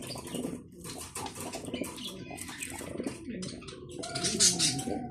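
Pigeons at a pigeon farm coo softly and flutter their wings, with scattered chirps and rustling nearby at moderate to low level, no talk.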